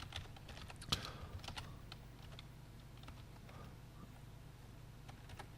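Keys on a computer keyboard are tapped in a quick, irregular patter of faint close clicks, with one sharper keystroke near the start, as numbers are typed into a poker tool.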